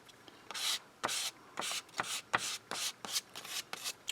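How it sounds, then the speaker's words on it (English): A paint scraper scrapes dried paint in quick rasping strokes, about a dozen short scratchy bursts in an uneven rhythm, close and fairly soft with no talking. "I love scraping paint like this"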